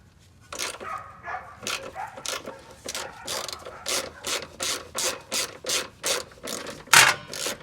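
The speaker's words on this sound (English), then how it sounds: "So we'll remove the top bolt just like earlier. 17 millimeters." Ratchet clicking steadily in a fast, even rhythm while backing out the 17 mm top bolt of a 2001-2006 Acura MDX rear shock, close and fairly loud, with no talking over it.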